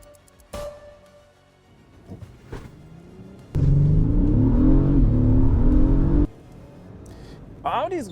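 An Audi Q8 S-Line launches hard in a drag race against an Acura MDX Type S and BMW X5, its loud engine roar surging suddenly and holding steady for several seconds before cutting off, with brief speech and thumps around it.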